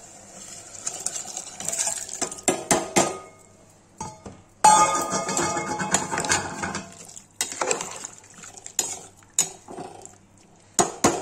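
Tomatoes frying in a pan for matar paneer are stirred with a utensil, giving irregular clinks and scrapes against the metal over a soft sizzle, close up, with no voices.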